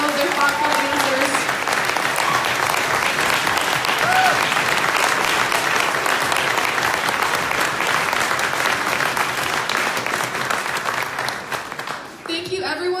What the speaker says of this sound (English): Let's give all of them one more round of applause for all of their thoughtful answers.